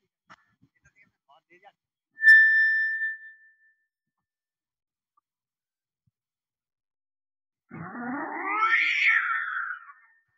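A mimic artist's voice imitates cats fighting: a short ringing tone, then after a long pause a rising, drawn-out yowl lasting a few seconds, fairly close and clear.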